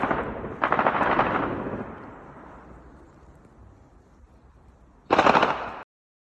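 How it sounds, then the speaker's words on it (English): A loud blast with a long, rumbling decay, followed by another sharp burst of gunfire-like bangs; no voices. "And then we just heard an explosion."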